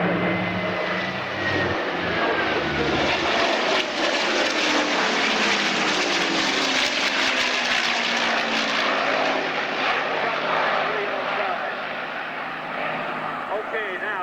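Racing airplanes roar past on a pylon race course at a 2001 airshow. Their propeller engines make a loud, sustained drone that swells and fades as they pass, under continuous commentary.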